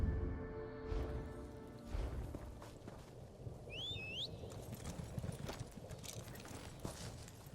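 Horse hooves clip-clop at a steady walking pace during a ride in Elder Scrolls Online, moderately close over a soft ambient bed, with a brief whooshing chirp partway through and no talking.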